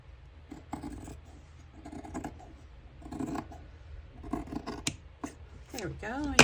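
Scissors snipping through paper for page trims, several separate close crunchy cuts spaced out in bursts, fairly quiet, with a person talking lightly in places.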